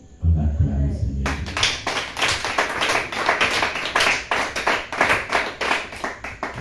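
A church congregation claps together to acclaim the Lord, sharp rhythmic claps repeating steadily and loud after a quiet start, with voices mixed in.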